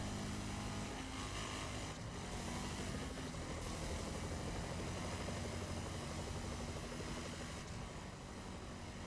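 A police helicopter in a video game pursuit gives off a continuous, loud, even rotor and engine roar that stays steady throughout, with no talking.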